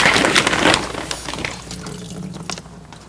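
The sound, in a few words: water draining off washed moss in sink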